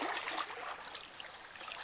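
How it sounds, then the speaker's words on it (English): Water flows beneath a floating cabin among cypress knees, a faint, steady trickling and gurgling stream heard on its own. "So I can give you a shot underneath with the water flowing."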